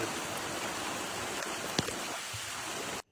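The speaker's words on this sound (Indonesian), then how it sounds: "di sini tuh malah hujannya lumayan deras" Heavy rain falling at a river while netting shrimp, a dense steady hiss of drops and flowing water close by, with a single sharp tap before it cuts off abruptly.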